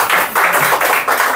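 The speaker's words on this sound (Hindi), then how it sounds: "ताली मारो।" A group claps together in a classroom during a school parents' meeting, giving a short run of quick, fairly loud, rhythmic claps without talk.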